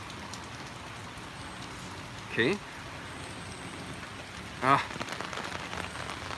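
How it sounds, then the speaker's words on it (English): Steady rain falls on a Cologne street, an even wash of patter on wet surfaces throughout, with a couple of brief spoken words breaking over it. "We have to go back into the rain now. the rain didn't stop."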